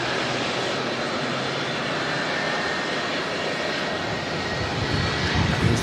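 Air New Zealand flight NZ623 to Queenstown, a jet airliner at Auckland Airport, gives a loud sustained engine roar that holds steady and builds slightly at the end, with no voices over it.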